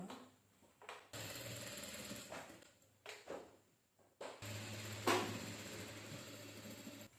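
A sewing machine stitching a saree blouse runs in several bursts of steady whirring, stopping and restarting between seams, close and fairly quiet.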